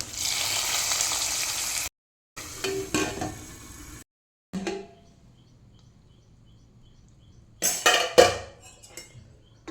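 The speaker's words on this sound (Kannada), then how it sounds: "ಅದಕ್ಕೆ ಒಗ್ಗರಣೆಯನ್ನು ಹಾಕ್ತೇನೆ." Tempering poured into a boiling cucumber and jackfruit seed curry sizzles sharply in short bursts separated by gaps, with pot and spoon clatter and a quieter stretch before a final hiss of frying.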